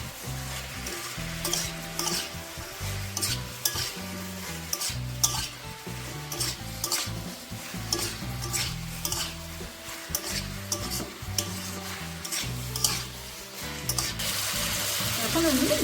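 Spices with turmeric and green chillies frying in a pan for a ridge gourd fish curry, a constant close sizzle broken by repeated stirring and scraping strokes against the pan.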